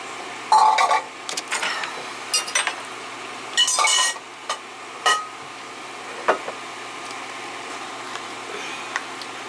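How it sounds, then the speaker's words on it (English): A heavy bowl of chicken for a broccoli chicken casserole is tipped into a pot, giving scattered clinks and scrapes of bowl against metal and soft wet slides, close and intermittent over a quiet kitchen hum. "all this chicken is going in this pot, pan, whatever you call it"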